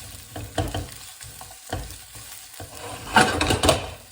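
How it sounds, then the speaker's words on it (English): Onions fried and stirred in a pan with a spatula: close, loud scraping knocks and bursts of sizzle in an uneven rhythm, with a sharper flurry of clatter near the end. "So we'll sort of bash these onions up. Chuck those in there like that."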